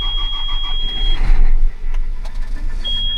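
A John Deere 9510 tractor engine cranks and fires up close by on a potato farm, a loud surge of starter whine and low rumble that settles into a steady idle, with a high electronic tone.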